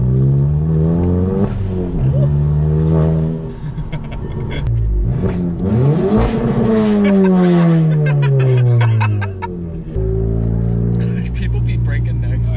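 A VW Golf GTI MK7 fitted with an Integrated Engineering intake revs loudly and close, engine pitch rising and falling through several sweeping pulls and shifts, with people talking over it.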